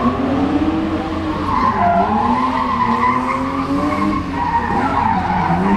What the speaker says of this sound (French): on est dans la partie purement drift de cette démonstration